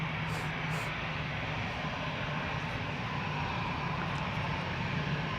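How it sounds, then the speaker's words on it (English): An EasyJet Airbus A320 lines up for departure at Amsterdam Schiphol, its jet engines a steady, fairly distant broadband roar with no change in level. "Now the EasyJet on Cheater's Lane is lining up."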